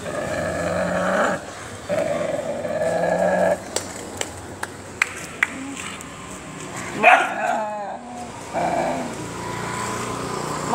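Stray dogs outside a house growl in long rumbling stretches, then give a series of sharp separate barks and yelps, fairly close, with some brief whimpering.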